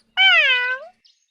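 A single clear, drawn-out cat meow rises and then falls, close and loud against total silence, used as a sound effect in a children's folk tale.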